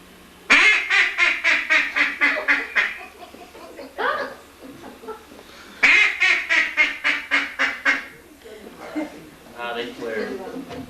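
Several ducks quack in two loud, rapid bursts of repeated calls, separated by a pause and followed by softer scattered quacks, with hunters talking quietly nearby.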